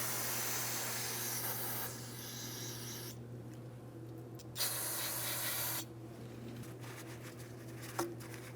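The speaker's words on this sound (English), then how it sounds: "So I'm going to use some parts cleaner and clean rag." Parts cleaner sprayed and wiped with a rag during a parking brake shoe replacement on a 2007-2014 Ford Edge, with hissing spray bursts and rubbing over a steady low mechanical hum, close and moderately quiet.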